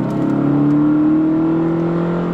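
A BMW 745i E65 engine in sport mode accelerates with a deep, steady hum whose pitch rises gradually, loud and close, with no talking over it.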